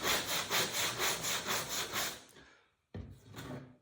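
Rhythmic back-and-forth rasping strokes of sandpaper on wood while shaping a sailboat rudder, about eight quick passes, then a pause and a few more scrapes, close and steady.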